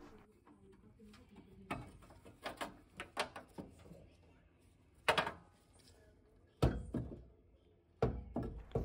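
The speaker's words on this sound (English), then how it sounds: "So take out these two screws and then the heat exchanger should be ready to come out." Screws being removed from the bracket holding a gas boiler's heat exchanger produce a series of close, sharp metallic knocks and clunks, grouped in bursts with short quiet gaps between.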